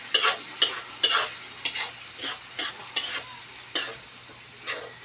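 Hotdog slices sizzling in a frying pan while being sautéed for spaghetti, with repeated quick scraping strokes of a spoon stirring at an uneven rhythm, close up and without speech.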